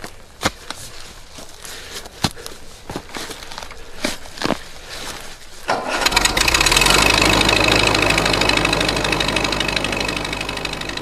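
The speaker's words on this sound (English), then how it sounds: "an old grey Ferguson. Runs on petrol or paraffin." An old grey Ferguson tractor's petrol-paraffin engine starts up after a few knocks and thumps, then runs with a loud, rough, chugging idle close by.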